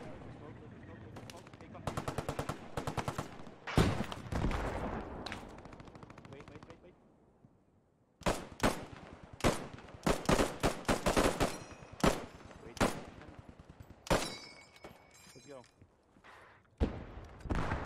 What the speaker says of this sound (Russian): Они с второго этажа. Они из бункера стреляют.